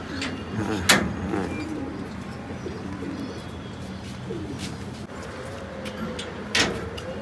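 A fancy pigeon coos softly in low, repeated rolling calls, faint against a quiet room with a few sharp knocks.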